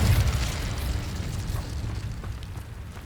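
An Incendio fire spell blast in Hogwarts Legacy, a loud booming burst at the start that settles into a rumbling, crackling roar fading slowly over a few seconds.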